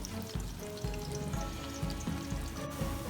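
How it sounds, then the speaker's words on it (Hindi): Onions fry in a pot until browned for a mutton and okra stew, giving a steady close sizzle with soft, regular bubbling pops. "अब प्याज लाल होने का मैं इंतज़ार करूँगी।"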